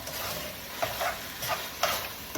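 Rice wine is stirred into a beef and broccoli stir fry with onion, giving a faint sizzle with a few soft scraping strokes of the spatula at a quiet, close distance.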